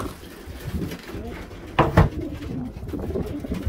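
Pigeons coo softly inside a small pigeon loft, low murmuring calls amid light shuffling and a couple of sharp knocks, with some faint background voice.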